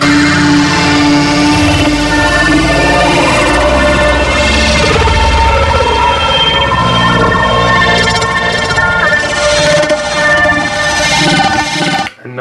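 Reversed, heavily slowed sample from an Elektron Octatrack, shaped by a flanger, swells into a dense, siren-like drone of layered sustained tones, loud and unbroken for about twelve seconds before cutting off.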